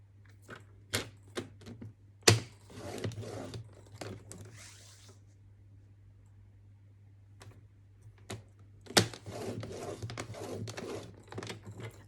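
A paper sheet creased with fold lines while making a box: a run of sharp crackles and papery snaps with rustling scrapes between them, close and fairly loud, with pauses and no talking.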